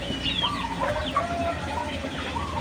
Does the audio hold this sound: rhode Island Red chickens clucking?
yes